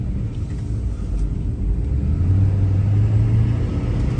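A diesel automatic chip truck runs down a road, its engine a steady low rumble that swells slightly louder toward the end, with no voices.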